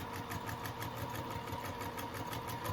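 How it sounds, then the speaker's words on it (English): A sewing machine stitches fabric for a reusable mason jar cover, running as a steady, continuous mechanical hum with a faint rapid needle rhythm throughout, fairly quiet and with no talking. "Okay, just keep sewing."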